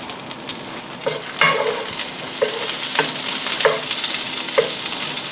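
Onions sautéing in a pan for a creamy bacon pasta give a steady close sizzle, with stirring scrapes recurring about once a second and no voices.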